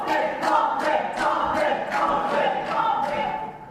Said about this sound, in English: I don't know what the crowd is chanting right now.